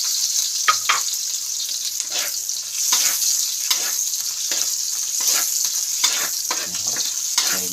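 Onion and garlic sautéing in a pan for corned beef with potato, a continuous crackling sizzle broken by irregular scrapes and clinks of stirring, close and steady.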